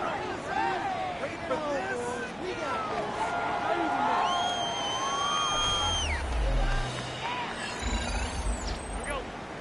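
Football stadium crowd at a Bills game roaring and shouting while a replay is shown, a broad steady wash of distant voices with whistles and scattered calls rising over it.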